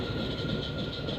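Onboard the Koyna Express passenger train between Mumbai and Kolhapur, a steady loud rolling rumble with a hissing mid-high band, heard briefly and without speech.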